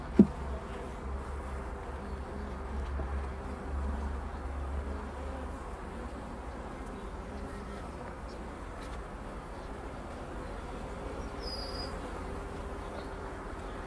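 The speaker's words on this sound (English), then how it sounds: "Look at all them bees." Honey bees swarm around an open hive box early in the morning, their dense steady buzz filling the air continuously and close by, with a faint knock at the start and no talking.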